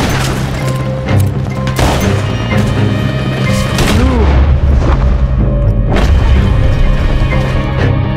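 Explosive-ammo gunshots in Red Dead Redemption 2 boom loudly one after another amid dense game noise and music, with heavy, continuous crashing blasts throughout.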